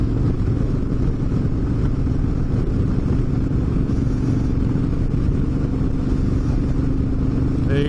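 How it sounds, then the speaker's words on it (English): A group of off-road dirt bikes, KTMs among them, riding past on a trail: a steady, dense engine roar with clatter, loud and continuous throughout, no voices. "oh, here come a group of dirt bikes"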